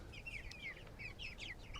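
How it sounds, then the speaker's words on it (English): Meat chickens on a farm cluck softly in a quick run of short calls, faint and fairly close, with no one talking. "Our meat chickens are growing too"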